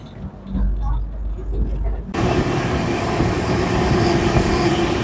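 The Saraighat Express rumbles at Kamakhya station with a steady, close clatter of train wheels and carriages that swells partway through, with people talking nearby.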